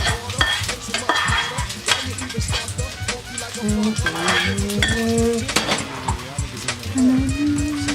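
Mushrooms sizzle as they fry in a pan, with a spoon steadily stirring and scraping and utensils clinking against the metal, all close and continuous throughout.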